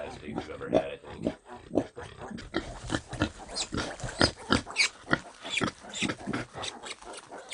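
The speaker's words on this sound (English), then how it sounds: "She's the fattest pig," A fat sow on a farm grunts and snorts in a quick, uneven series of short bursts, close by and fairly loud.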